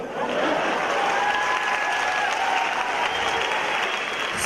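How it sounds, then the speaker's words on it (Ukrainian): An audience at a comedy league final gives a comedian dense, sustained applause. It stays loud and even throughout, with faint crowd noise underneath. "Скупайте його в аплодисментах, він того заслужив."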